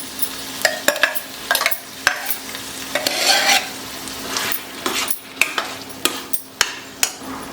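A spoon scrapes and taps around a pan in irregular strokes while ground masala is stirred into an ash gourd buttermilk curry, with a soft sizzle between the clinks.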